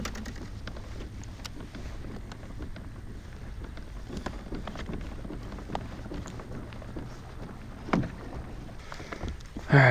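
A Hobie Outback kayak cruising across a lake at a steady pace, with continuous soft water swishing and wind buffeting the microphone, a few light knocks of gear, and no talking.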